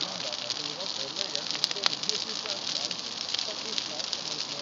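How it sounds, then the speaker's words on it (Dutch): A fire burns steadily with a dense, continuous hiss and scattered sharp crackles and pops throughout, close and fairly loud, with no talk over it. "Kijk wat een vuur, ja."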